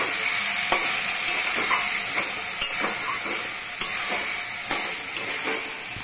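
Ash gourd ghonto sizzles in a pan while a spoon stirs it, with regular scraping taps every second or so over a constant frying hiss.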